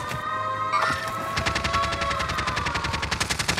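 Rapid automatic gunfire from a Modern Warfare match on Rebirth Island, dense bursts of shots rattling steadily and loudly, building after a brief quieter opening.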